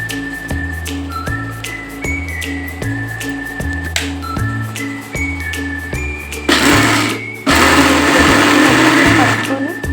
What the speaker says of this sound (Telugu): మిక్సీలో పప్పు వేసుకొని బొబ్బర్లు మినపప్పు 2 కలిసి మిక్సీ పట్టుకోవాలి.